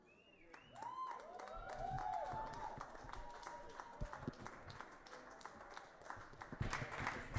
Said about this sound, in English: Everybody give Vine the Machine another big round of applause.